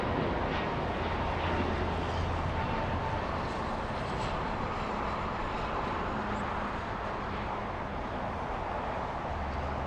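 A Wamos airliner taking off from Los Angeles airport for Santiago, a steady broadband jet roar heard from a distance that holds evenly throughout.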